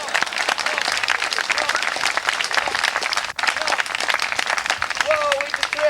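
Audience applause at a Renaissance fair show in Waxahachie, Texas, a steady wash of many hands clapping with scattered cheers and voices mixed in throughout.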